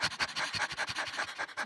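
A group of people at a voice-acting workshop imitate a dog panting in the heat, producing rapid rhythmic breathy huffs, about five per second, close and steady with no talking.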